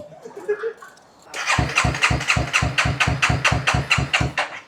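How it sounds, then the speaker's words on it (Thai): After a brief murmur of voices, an old 250cc motorcycle engine is kick-started, catches and settles into a loud, rhythmic, thumping idle close by. "พี่ก๊กสตาร์ทให้ฟังหน่อยคันนี้"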